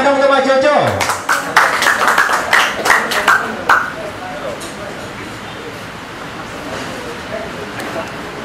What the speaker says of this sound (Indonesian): Tepuk tangan dong untuk Mas Jojo.